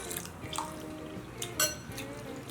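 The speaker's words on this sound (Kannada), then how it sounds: "ಕ್ಲೀನಾಗಿ ನೀರು ಹಾಕಿ ಒಂದು 2-3 ಸರಿ ಚೆನ್ನಾಗಿ ತೊಳ್ಕೊಳ್ಳೋಣ" Toor dal lentils being washed by hand in a vessel of water, quiet sloshing and swirling with a few soft clinks of the pot, close and low in level.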